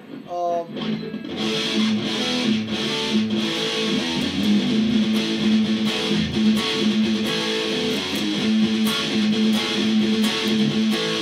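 A distorted electric guitar verse riff plays steadily and loudly with a driving, repeating rhythm, with no talking over it.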